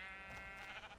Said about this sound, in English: Oh, there's another sheep.